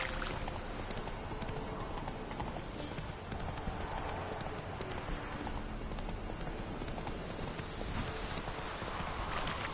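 Hooves of Roach, a horse in Witcher 3, clip-clop in a steady rapid rhythm over a dense wash of ambient game noise, close and continuous for the whole stretch.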